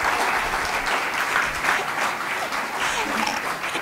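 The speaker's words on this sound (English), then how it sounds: "let's give a round of applause to Dr. Neiberg." A lecture audience at a talk on the United States and the First World War claps for the speaker, a full, even burst of applause lasting several seconds.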